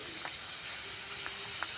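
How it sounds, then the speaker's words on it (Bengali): Food frying in a pan, steady close sizzle with a continuous bright hiss and occasional faint pops, heard alone. "এখনও ভাজা হচ্ছে"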